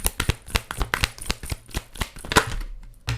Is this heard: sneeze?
no